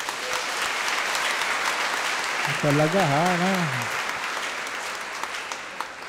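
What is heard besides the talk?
audience applauding loudly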